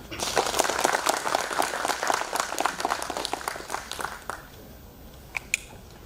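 An audience gives a speaker a steady round of applause, dense and fairly close at first, then thinning out into a few last scattered claps.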